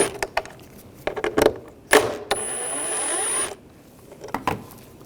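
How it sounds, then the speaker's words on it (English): A ratchet fitted with a T20 socket turns out the sensor screws inside the door of a 2011-2018 Ram 1500 during window regulator replacement: scattered close clicks and scrapes, then a steady mechanical whir of about a second. "Remove these two screws for this sensor,"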